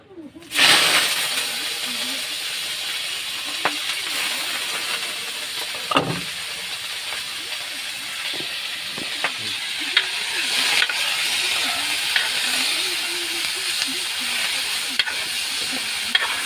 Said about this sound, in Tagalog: Pagkatapos mainit mga idol yung mantika, ilagay natin yung karne.